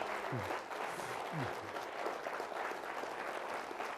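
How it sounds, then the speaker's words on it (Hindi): An audience in a Mumbai auditorium applauds during a live motivational session, a dense and continuous wash of clapping heard from a moderate distance that holds steady throughout, with no voices over it. "एक बार आप सभी लोग अपने लिए बहुत जोरदार ताली बजाएं, बहुत ही जोरदार."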